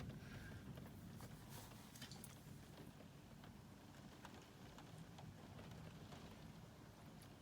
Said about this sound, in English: I think it's just rain now.